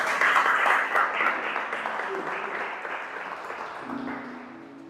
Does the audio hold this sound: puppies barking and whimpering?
no